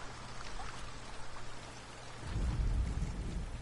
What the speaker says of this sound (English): Beautiful sound of the thunder above.